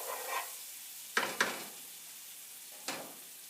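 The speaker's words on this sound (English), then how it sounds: "That is nice and brown and sizzling." Soft, steady sizzle of food frying in a pan, punctuated by a few short clatters of utensils stirring; no talking.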